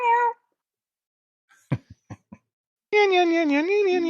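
A person imitates a cat's meow with long, wavering nasal tones at the start and end, separated by a few short clicks and taps.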